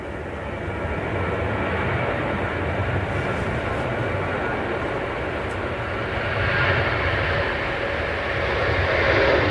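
A Ryanair airliner departing Manchester Airport gives off a steady, broad jet roar from a moderate distance, swelling slightly toward the end.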